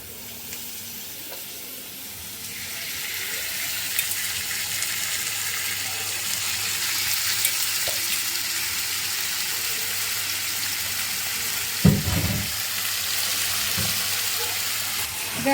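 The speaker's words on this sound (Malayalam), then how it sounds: "ഇത് ഹൈ ഫ്ലെയിമിൽ വെച്ച് നമുക്ക് കുറച്ച് നേരം ഒന്ന് ഫ്രൈ ചെയ്യാം" Chicken pieces fry with ginger and garlic in a pan over a high flame, making a continuous loud sizzle. A few utensil clacks and stirring knocks come through near the end.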